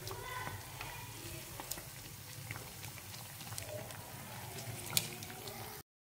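Cakes fry in hot oil in a pan, giving a close, continuous sizzle dotted with sharp pops and crackles that stops abruptly near the end.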